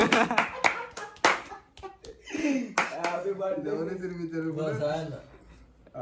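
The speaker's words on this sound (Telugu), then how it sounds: "Ready ready claps." A group of people claps at a birthday celebration, loud, close and uneven bursts of applause early on, then fading as voices and chuckling take over.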